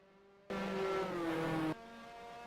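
A 1973 Formula Ford race car at Brands Hatch roars past loudly with a steady high engine note, suddenly cutting to a quieter distant drone of other cars on the circuit.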